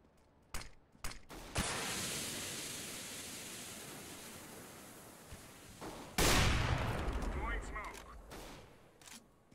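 Gunfire in Counter-Strike: Global Offensive, a few sharp shots followed by loud sustained hissing blasts and a heavy burst midway that trails off with scattered cracks, prominent and close.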